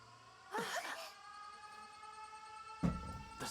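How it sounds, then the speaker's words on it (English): Air raid sirens sound in the video game 13 Sentinels: Aegis Rim, faint steady wailing tones held throughout and broken by a few brief louder bursts of noise. "The sirens."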